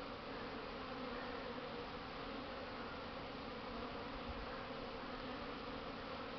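Swarm of honeybees buzzing in a strong spring cleansing flight around their hive on the first warm days, a continuous dense hum, fairly faint and steady, with no voices.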